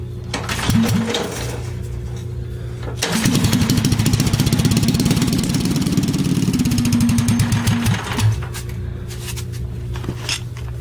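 A motorcycle engine idles steadily, then revs up into a louder, rougher run for several seconds before settling back to a steady idle.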